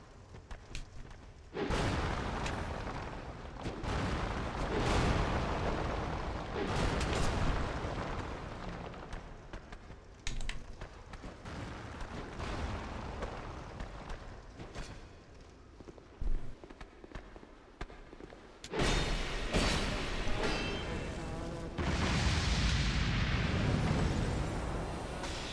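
Area-of-effect spell explosions are spammed in Dark Souls: Scholar of the First Sin, giving dense, continuous roaring bursts with rumbling impacts. Loud surges hit at the start and again near the end, with brief quieter dips between them.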